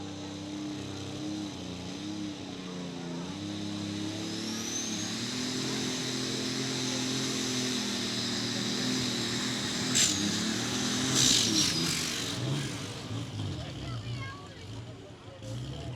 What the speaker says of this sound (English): driving the alcohol-powered John Deere called the Deere Gone Wild.